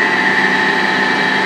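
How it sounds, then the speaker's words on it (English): The hydraulic pump on a Mattison 24-inch by 72-inch hydraulic surface grinder runs with a steady, loud, high-pitched whine and constant hum, close by and without any talk. "now here's the hydraulic pump going here right now."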